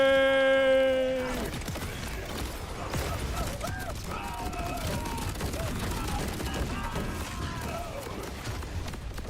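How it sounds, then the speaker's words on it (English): Rocket fire erupts in Borderlands 4 as a rapid barrage of bursts and mechanical clatter, loud and dense after a brief tonal chime at the start, with scattered voices mixed in. "Infinite rockets!"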